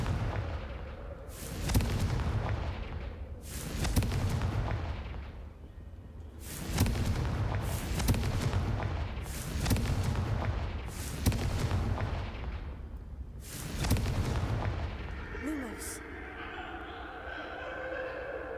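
Confringo fire spell explosions in Hogwarts Legacy go off as a series of loud, booming blasts spaced a couple of seconds apart, followed by a softer tonal magical whoosh.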